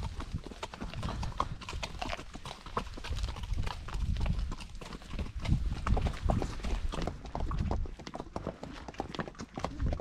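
Horse hooves clip-clop steadily on a road during a trail ride through the Bardenas desert, a continuous close rhythm of shod hoofbeats with occasional faint background voices.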